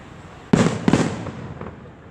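Fireworks at an Independence Day display in Downingtown bursting twice in quick succession, two sharp loud booms followed by fainter crackling and a lingering rumble fading away.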